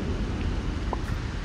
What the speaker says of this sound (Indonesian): Tapi lagi hujan nih